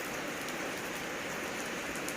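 Rain falls steadily on a house in a dense, even hiss of many drops that fills the whole stretch without a break, with no voices.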